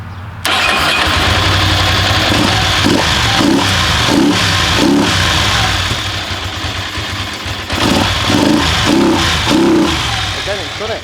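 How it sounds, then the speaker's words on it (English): A Ducati motorcycle engine runs loud and close, sounding rough and boggy with a steady uneven drone that dips and sags midway before picking up again, without clear speech over it. "The bike would run, but it would sound really, really boggy, and then ultimately it would cut out."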